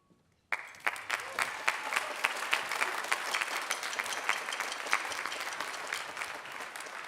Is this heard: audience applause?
yes